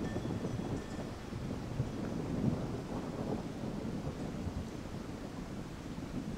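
Low, rolling rumble of thunder from an approaching storm in the Romanian countryside, a steady diffuse roar with wind buffeting the microphone throughout and a slight swell midway, moderately loud with no voices.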